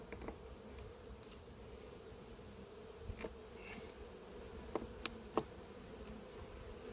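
A faint, steady wasp buzz drones alone at an apiary, broken by a few soft clicks and taps.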